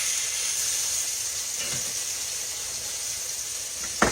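Country fried steak sizzles steadily in a pan just after being flipped, a continuous bright hiss filling the whole stretch with a short louder crackle near the end; no talking.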